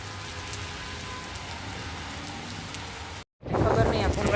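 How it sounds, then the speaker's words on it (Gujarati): Steady, dense rain hisses across the whole clip, cutting out briefly near the end and returning louder and closer, with some indistinct background sound. "કેટલો ફાસ્ટ વરસાદ ચાલુ થઈ ગયો છે"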